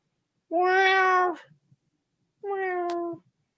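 A cat gives two drawn-out meows close by, the first longer and the second after a short pause, with quiet in between.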